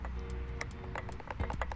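Wheel bearings on a newly assembled skateboard clicking as the wheel is moved, giving a quick series of close, light ticks and taps in a quiet room.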